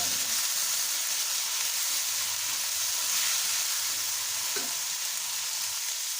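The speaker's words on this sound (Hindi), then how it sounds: "इन मसालों को हम अच्छी तरह भून लेंगे" Chicken with spices such as cumin powder being roasted dry in a pan, a steady close sizzle and hiss with faint stirring scrapes running continuously and alone.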